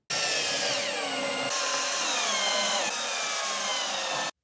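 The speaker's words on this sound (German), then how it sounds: "am besten gleich einen Akkuschrauber zur Hand nehmen" Cordless drill driving a screw into an IKEA Kallax door insert: one steady, close motor whine lasting about four seconds, shifting pitch slightly as the screw bites, then stopping abruptly.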